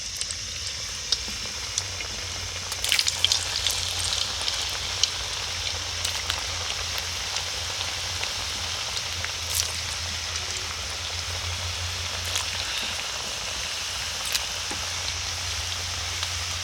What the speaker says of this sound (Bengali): বাকি মদনগুলো একই রকমভাবে ভেজে নেব।